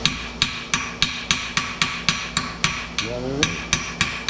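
A hammer strikes a flux core weld about a dozen times in a quick, even rhythm, knocking off slag with sharp metallic raps up close; someone speaks briefly midway.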